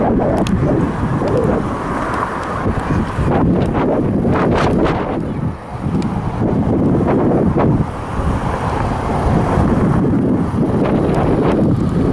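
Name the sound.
wind blowing into the microphone at a scenic overlook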